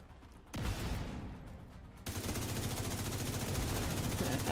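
Automatic gunfire from a weapon in the video game The Division 2, a dense, sustained burst that starts abruptly, pauses briefly, then resumes louder and continuous, with no talk over it.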